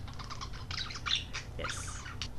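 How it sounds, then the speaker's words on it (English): Budgie chirping up close, a run of quick bright tweets and short calls in a quiet room. "And there's the budgie."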